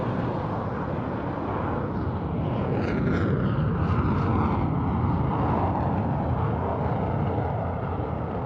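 Eurofighter Typhoon jet at an air show, a loud continuous roar of jet engines sustained throughout, swelling slightly mid-pass with a broad rushing wash and no speech.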